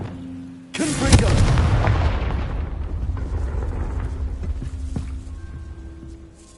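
In Hogwarts Legacy, the Confringo fire spell detonates with a sudden loud, close explosive boom that rolls into a long crackling, rumbling fiery decay before fading under a low ambient game hum.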